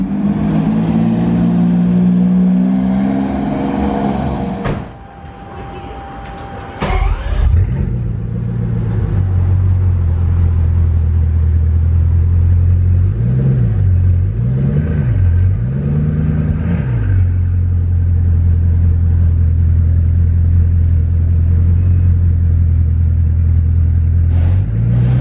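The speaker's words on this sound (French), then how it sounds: "Diablo SV qui sort du port" A Lamborghini Diablo SV and other supercars in a Monaco harbour street, deep loud engine rumble with a sharp rev around the middle, then a sustained low drone rising and falling through several revs, close up with no talk.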